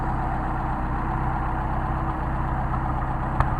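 A Mercedes 190SL engine fitted with Solex carburetors idles steadily, a loud, even mechanical drone close to the microphone with no voices.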